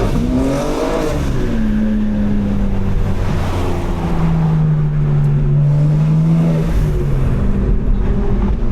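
A 750-horsepower BMW M4's engine roars and revs up while accelerating, intake noise prominent, its low drone rising and falling in pitch, loud and close with no talking.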